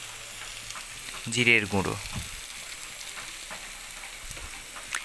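Spices frying in a pan with stirring, a soft continuous sizzle under a brief spoken phrase, followed by quieter scraping and light pan noises.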